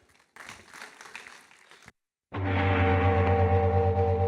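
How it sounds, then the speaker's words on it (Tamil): Applause from a festival audience for a Bharatanatyam solo dancer, a steady burst of clapping that begins abruptly after a short silence, following a stretch of softer, patchy clapping and crowd noise. "எங்கே உங்கள் கரகோஷம் ஜதிசிகாவிற்கு?"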